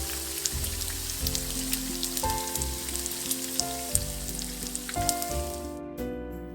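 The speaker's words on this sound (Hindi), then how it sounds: "आपने इस बैटर को ठंडे ऑयल में नहीं डालना। जब हम इसमें बैटर डालेंगे तो पकोड़े फ़ौरन ऊपर आना स्टार्ट हो जाएंगे" Onion pakora batter fries in hot oil with a close, constant crackling sizzle and dense popping, with soft tonal music running underneath.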